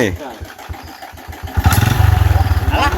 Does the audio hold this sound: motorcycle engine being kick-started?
yes